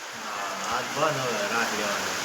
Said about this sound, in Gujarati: બહુ વરસાદ શરૂ છે ના વરસાદ શરૂ છે